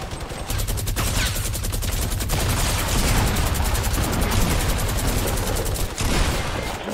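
Rapid automatic gunfire from the Fortnite Battle Royale video game, likely the double minigun, blasting in long sustained bursts that run almost the whole time, loud and close with a few brief gaps.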